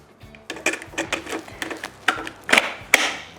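Plastic nozzle of a STIHL SHA 56 cordless garden vacuum-blower being pushed on and snapped onto its latches, giving a quick series of sharp, close clicks and knocks.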